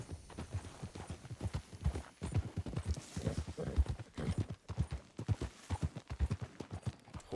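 Steady clip-clop of horse hooves on a hard surface in the video game Red Dead Redemption 2, close by, with a rhythmic beat throughout.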